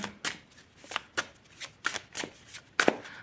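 Tarot cards are shuffled in a series of quick, crisp riffling snaps, close by and irregularly spaced, with no speech.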